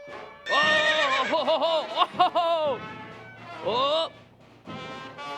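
A voice on stage in a theatre play imitates a horse's neighing with long, wavering whinnies, followed by a shorter whinny and a brief final call.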